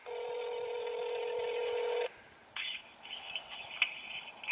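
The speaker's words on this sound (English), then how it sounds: "We've just dialed and we'll see what happens." A Verizon iPhone places a call: a steady dual-tone beep holds for about two seconds, breaks off, then faint, uneven ringing follows as the line connects.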